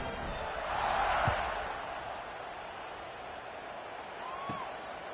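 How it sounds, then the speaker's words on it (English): A college football stadium crowd at an LSU vs Clemson game rises to a broad roar that swells and then settles into a steady distant buzz, with a couple of faint thumps. "this crowd is buzzing after that last score"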